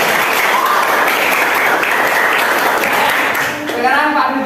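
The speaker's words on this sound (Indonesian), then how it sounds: "Tepuk tangan untuk kita semua." Children in a classroom clap together loudly and continuously, a close, dense patter of small hands that carries on to the end while an adult voice begins speaking over it near the finish.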